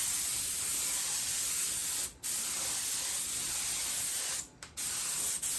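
An airbrush sprays in a close, continuous hiss, cutting off briefly twice as the trigger is released and pressed again.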